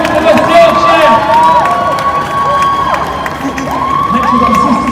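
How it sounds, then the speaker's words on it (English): Crowd at a pro-Palestine protest march in Leeds cheering, shouting and clapping loudly, with whoops rising over a continuous outdoor crowd roar. "Big round of applause! Massive effort for West Yorkshire!"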